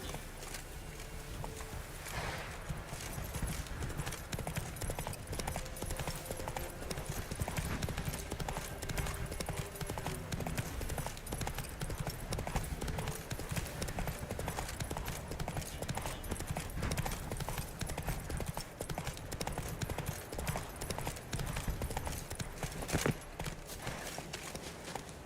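Hooves of Geralt's horse Roach clip-clop continuously at a steady walking pace through The Witcher 3 video game, a close, even rhythm running the whole stretch with faint game ambience behind it.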